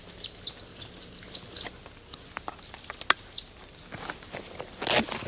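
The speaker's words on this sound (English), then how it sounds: "There goes a bird." A ruffed grouse flushes from brush in rain, a brief flurry of wingbeats among faint chirps and rustling, with scattered small taps and patter in an outdoor woodland.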